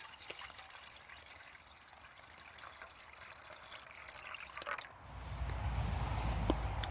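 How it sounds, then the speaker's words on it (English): Water trickles and splashes into a camping pot outdoors, faint at first, then a fuller, steadier pouring swells near the end amid light background noise. "Take our water,"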